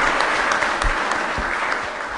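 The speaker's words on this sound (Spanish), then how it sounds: "Un aplauso para ella, qué bueno." A congregation at a Spanish-language Sunday Mass applauds for a young girl, a dense, continuous patter of many hands filling the church, steady and moderately loud, with no speech over it.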